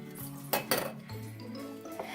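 A spoon stirs homemade butter in a bowl, with a few soft scrapes and sharper clinks against the sides in an uneven rhythm, quiet and close.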